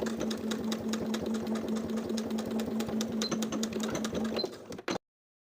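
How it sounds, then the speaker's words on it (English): A sewing machine edge stitches along the bottom of a shirt placket, a steady, rapid mechanical chatter with an even hum that runs for about five seconds and then stops. "Edge stitch in place along the bottom of the placket to secure the bodice fabric."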